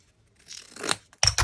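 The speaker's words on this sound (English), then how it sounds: "I'll just cut them in half." Scissors snip through napkin paper, cutting it in half: a soft rustling slice followed by two sharp, close crisp cuts, no voices.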